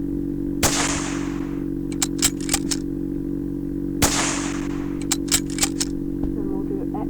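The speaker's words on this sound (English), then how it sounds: "so the reload is actually, look, yeah, so we'll do a cutaway fire" Gunfire in the World of Guns disassembly game, shown in cutaway view: two sharp, loud shots a few seconds apart, each followed by a quick series of mechanical clicks, over a steady electronic hum.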